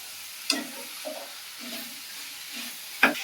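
Vegetable palya being stirred in a pan: a low, soft sizzle runs underneath, broken by two sharp scraping stir strokes near the start and end and a few quieter ones between them.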